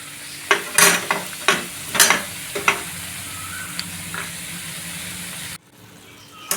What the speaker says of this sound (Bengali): আমি 4টে 4টে করে ভেজে নিচ্ছি।